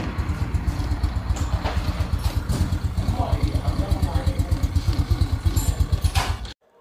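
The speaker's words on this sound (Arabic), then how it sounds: "ده صوت السكوتر." A cheap automatic scooter-type motorcycle in Egypt idles steadily close by, its engine putting out an even, rapid pulsing chug for several seconds before cutting off abruptly at the end.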